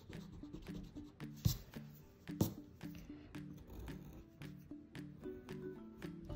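Pencil eraser rubbing back and forth over a pencil drawing on paper, a steady scratchy scrubbing in repeated quick strokes with a couple of sharper taps, close and fairly quiet with no talk.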